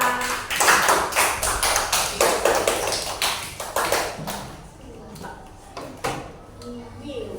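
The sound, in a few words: applause for Laila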